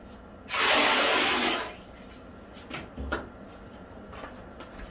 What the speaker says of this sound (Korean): 화장실 변기 같은 데에다가 부어주시면 돼요